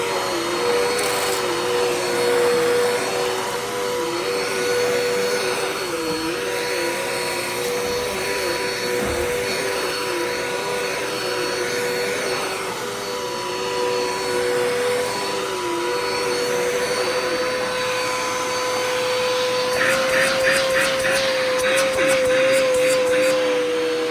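A Dirt Devil Endura Express vacuum cleaner runs steadily on a floor littered with junk, a loud, continuous whining motor drone with slight shifts in pitch and a rattling of debris near the end.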